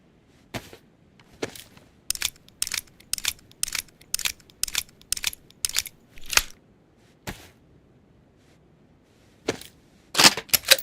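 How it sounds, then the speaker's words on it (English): Rounds are pressed one by one into a pistol magazine in the video game DayZ, a series of sharp, close metallic clicks in a quick uneven rhythm, with short pauses between them and no voices. "Let's load up our next pistol mag."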